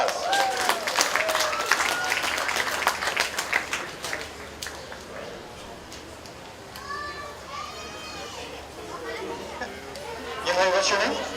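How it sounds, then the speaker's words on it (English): A crowd at the Dodge County Fair breaks into applause for a few seconds, then fades into lively chatter with children's voices and nearby talk. "let's give him a nice round of applause."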